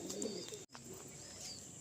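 Pigeons coo softly at a Kolkata seller's loft in Garia, with faint calls under a steady background hum and a brief dropout partway through.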